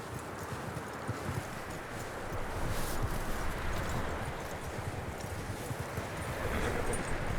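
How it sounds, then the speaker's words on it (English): Horse hooves clip-clop steadily at close range in the snowy Western game Red Dead Redemption 2, a continuous rhythmic clatter under a constant wash of wind and snowstorm noise. "That looks like a decent horse."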